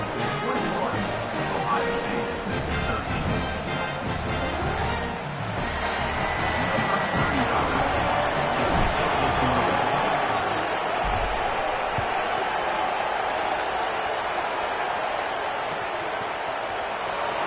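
Stadium crowd at an Ohio State football game cheering loudly after a special teams score, a dense, sustained roar that stays steady throughout without letting up.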